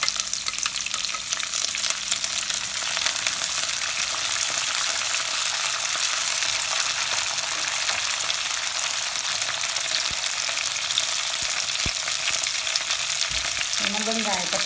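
Garlic, green chilies and curry leaves hissing in hot oil for fish curry, a loud steady close sizzle throughout with a few sharp clicks of a utensil against the pan.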